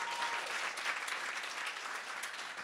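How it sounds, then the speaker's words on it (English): Steady applause from an audience at a breakfast working session, a dense even patter of many hands sustained throughout at moderate distance. "how about a round of applause for Jess?"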